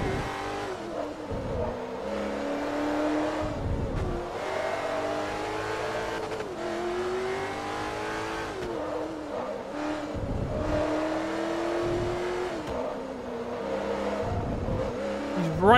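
Porsche race car engine in the Forza Motorsport 3 game, revving and shifting up and down through gears with rising and falling pitch sweeps, fairly close and continuous, with brief tire squeal.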